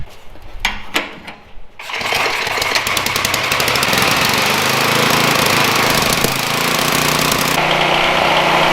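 After a few brief knocks, a vintage Apple vacuum cleaner with its filters removed starts up and runs loudly and steadily, a close, continuous roaring motor with a rattling edge.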